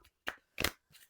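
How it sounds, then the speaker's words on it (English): Three quick riffles come from an oracle deck of gilt-edged cardstock cards being shuffled by hand, close and crisp, with short gaps between them and no speech. "Easy to shuffle."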